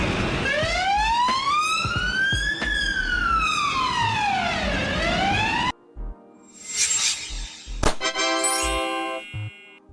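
A loud wailing siren of a Slovenian ambulance sweeps up and down close by, then cuts off, followed by a few clattering knocks and a short rising electronic tone.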